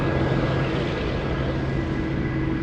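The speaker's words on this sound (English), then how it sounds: "That's the DC-10 taxiing towards us" A DC-10 taxis toward the listener at Anchorage airport, giving a close, steady engine roar and rumble with no break.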